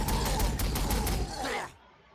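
Bolter fire from Warhammer 40,000: Sanctus Reach comes as a rapid, loud burst of repeated heavy shots that rattle together for over a second, then cut off into a fading mechanical tail.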